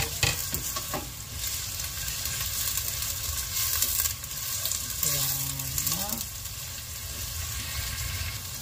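Onions sauté with browned garlic in a pan. A continuous close sizzle is broken by stirring scrapes, and a brief tonal whine rises in the middle.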